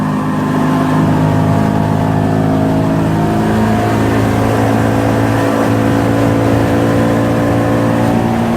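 A car engine holds a loud, steady drone, rising in pitch as it is revved from 2,000 up to 3,000 RPM, close and continuous with no talk over it.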